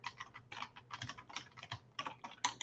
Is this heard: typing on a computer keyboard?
yes